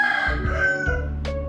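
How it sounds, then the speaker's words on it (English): A rooster crows outside a room in Laos, its drawn-out, wavering call ringing clearly at moderate distance with no talk over it. "There's roosters outside that go crazy, as you can hear"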